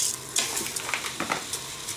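A spoon stirs green risotto with vegetables inside a Cookeo multicooker, scraping and clinking irregularly over a constant soft sizzle, close and fairly loud.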